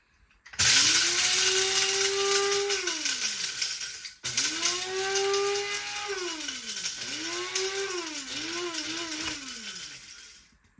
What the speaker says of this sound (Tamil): இந்த இருக்கு பெப்பர் அரைக்க போகிறோம்